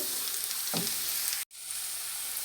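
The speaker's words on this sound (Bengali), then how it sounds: "শাক বাগার দেওয়ার জন্য পেঁয়াজ আর রসুন ভেজে নিয়েছি" Onion and garlic fry in oil for tempering greens, a steady close hiss with one short scrape, then a momentary dropout before the sizzle resumes.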